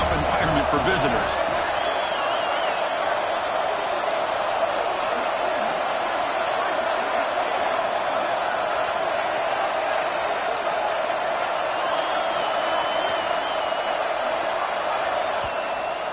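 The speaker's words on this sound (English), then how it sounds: "Listen to the crowd energy here in the early going" A large crowd roars throughout at an Ohio State vs Miami game, a steady, loud, unbroken wall of noise with faint whistles and shouts rising out of it.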